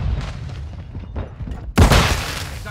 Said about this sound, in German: Werfe Betäubungsgranate!